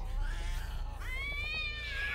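Cat in a vampire horror film, a drawn-out meow with a rising, wavering caterwaul, faint and heard alone over a low background rumble.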